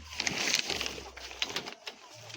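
Pigeons coo softly in a pigeon house kept by a breeder selling birds, a low murmur with scattered brighter bird noises over a steady background hum.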